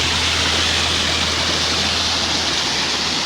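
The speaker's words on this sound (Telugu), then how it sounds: "వాటర్ ఫాల్ ఎలా పడుతుందో చూసేయండి" A waterfall below a road gives a loud, continuous broadband roar with no breaks. It is heard close and alone, over a low steady hum, with no voices.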